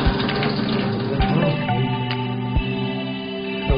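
Hot water runs steadily from a tap just after a gas water heater has been installed, giving a close, continuous hiss and splash with a few brief knocks and no voices.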